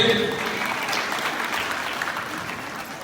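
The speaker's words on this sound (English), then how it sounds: "Are we tired of clapping?" An audience claps steadily and loudly throughout at a skills development centre graduation ceremony, a dense sustained applause that fades slightly toward the end.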